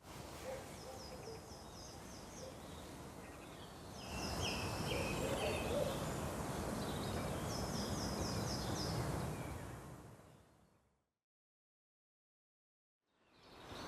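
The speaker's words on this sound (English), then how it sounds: "the bird song here in the Frome Valley is just absolutely joyous" Birdsong in the Frome Valley under an old oak tree in South Gloucestershire in April, with repeated chirping phrases over a steady outdoor background that swells midway, then fades to silence near the end.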